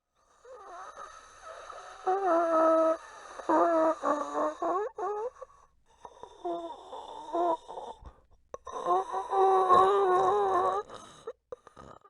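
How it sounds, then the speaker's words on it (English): Raspy, groaning breaths from a character that has slipped into the room in a Five Nights at Freddy's game, heard alone as several loud drawn-out wheezing passes with brief gaps between them. "raspy breathing can be heard"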